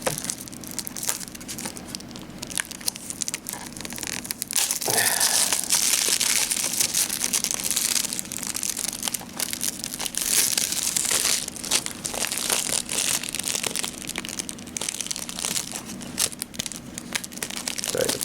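Plastic wrap being peeled off an anime DVD case, the clingy film crinkling and crackling in a continuous close-up rustle, with sharper tearing snaps now and then as it sticks and pulls away.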